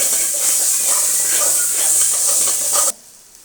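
Ginger and garlic frying in oil for pepper chicken, stirred round and round in the pan, giving a loud steady sizzle and hiss with scraping that stops abruptly near the end.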